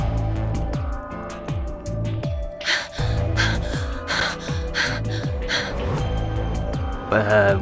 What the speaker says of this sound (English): Why are you breathing so hard?